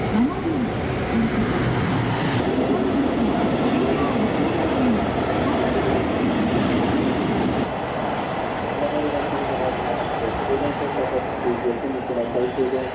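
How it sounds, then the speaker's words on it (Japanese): A seven-car JR Kyoto Line local train bound for Takatsuki, the line's last train of the night, rumbles steadily into Nagaokakyo Station platform while an automated platform announcement voice speaks over it. "まもなく3番乗り場に0時39分発普通高槻行きが7両で参ります"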